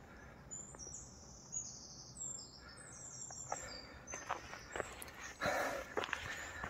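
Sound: birds chirping in forest

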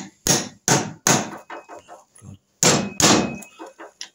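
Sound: tapping a part off a Norton Commando engine

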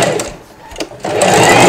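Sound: sewing machine stitching a double hair weft

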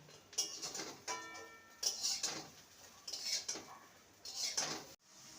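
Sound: fried kakrol being moved into a bowl

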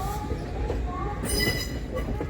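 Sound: train running, turning onto Kharagpur–Puri line

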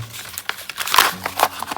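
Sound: booster pack wrapper crinkling

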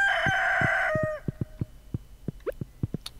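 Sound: rooster crowing in the video game Stardew Valley

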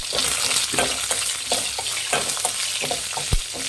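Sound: stirring shahjeera and green chillies into frying biryani masala

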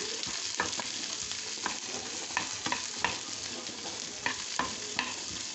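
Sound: frying roasted gram dal and other ingredients in a pan

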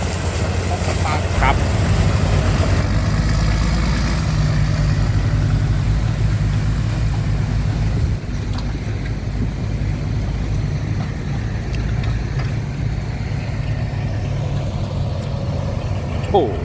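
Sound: ten-wheel trucks pulling sugarcane trailers, engines

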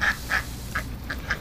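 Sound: ducks quacking while eating

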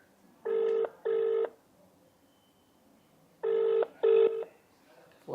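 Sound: phone ringing after dialing a call

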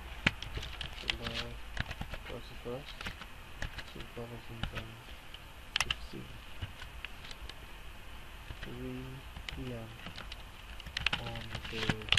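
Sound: typing on a computer keyboard

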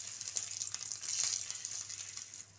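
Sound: dry fruits frying in ghee in a pan

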